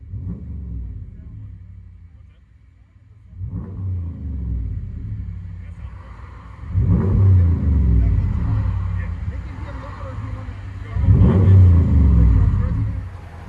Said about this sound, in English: Ram 1500 Hemi. Can never be disappointed with a Super 10. They always sound so good.